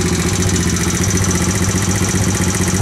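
A small carbureted engine idles steadily after a carburetor needle adjustment, its close, loud, even chug running without a break.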